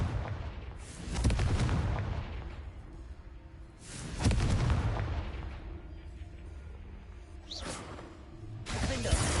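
Confringo blasting spells fired during a fight in Hogwarts Legacy: three heavy booming bursts with whooshing tails at roughly three-second intervals, loud and close over a rumbling game background.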